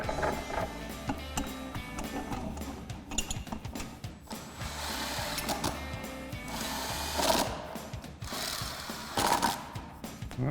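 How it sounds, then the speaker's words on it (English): An impact wrench with a 7/8 lug nut socket runs down the three lug nuts on a Jeep Wrangler JL spare tire mount, rapid hammering bursts in several runs with clanks of the socket between them, loud and close. "grab our impact and our 7/8 socket with our lug nut socket and tighten the 3 lug nuts down"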